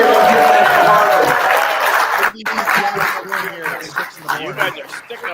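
A live audience at a holiday sports-radio show at a sportsbook bar applauds and cheers loudly for a couple of seconds, then the clapping thins out under a nearby voice speaking.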